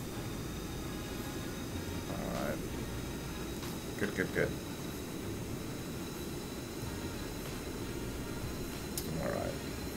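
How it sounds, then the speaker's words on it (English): Jet engines of a large plane throttling up in the Stormworks game, a broad steady roar holding throughout at moderate level, while someone speaks briefly over it. "Jet engines are kind of kicking in."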